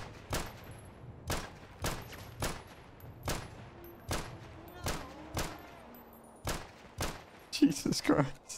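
Video game gunfire cracks out in a steady run of about a dozen sharp, evenly spaced shots, each one loud and close, with a brief cluttered burst of sound at the end.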